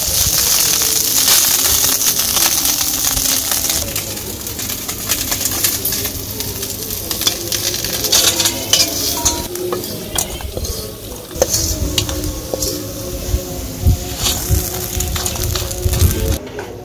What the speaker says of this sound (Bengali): আমার মাছ ভাজা হয়ে গেছে মাছগুলো নামিয়ে নেই